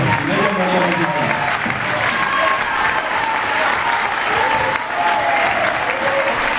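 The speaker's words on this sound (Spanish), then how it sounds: "el aplauso más fuerte se les tenemos que dar a nuestra rondalla" An audience at the Centro Aragonés del Puerto de Sagunto cultural week gives the rondalla a loud, sustained round of applause, the dense clapping holding steady throughout with a brief dip partway through.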